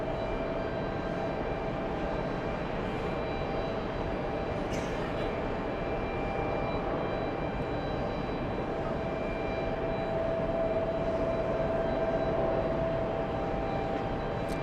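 A Delta airliner, flight 684 bound for Portland, at JFK airport, with a steady, broad jet engine roar that holds at an even level throughout and swells slightly near the end.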